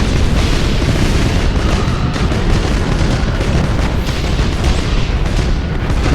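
Ship weapons fire and explosions in the Battlefleet Gothic Armada space battle game, a dense continuous roar of deep booms and blasts layered over one another, loud and unbroken throughout.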